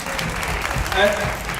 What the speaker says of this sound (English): Everyone give a round of applause to the bridesmaids